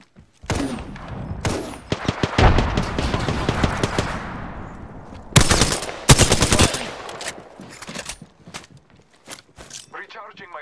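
Rapid automatic gunfire rattles in bursts during an Apex Legends match as a frag grenade is thrown, loud and close, with bangs, thuds and footsteps between volleys and game voices talking over the fight.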